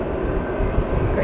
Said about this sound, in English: we've got a Logan Air, which is an Embraer ERJ 145 EP.